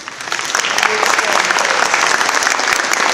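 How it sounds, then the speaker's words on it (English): Audience applause at a general election event, a steady, loud wash of clapping from a sizeable crowd that swells in the first half-second and holds dense and even throughout. "A big round of applause for all the audience who came and spent their Sunday afternoon."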